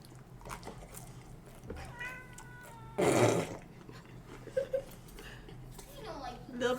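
A cat meows a few times at close range, a short drawn-out cry standing out amid people talking nearby in a home.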